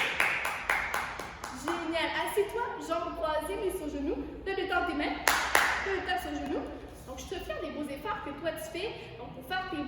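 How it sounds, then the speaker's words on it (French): Young children aged three to five clap for themselves after a ninja martial-arts drill, a burst of scattered applause and sharp claps mixed with lively chatter and voices throughout. "On s'applaudit."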